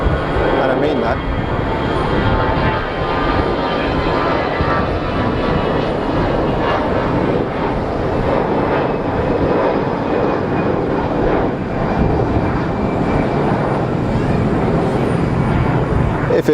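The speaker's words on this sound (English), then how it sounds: "What a machine. EasyJet, my favourite airline." A jet airliner at Geneva Airport, an EasyJet plane, gives a loud, steady, broadband engine roar that fills the whole stretch without letting up.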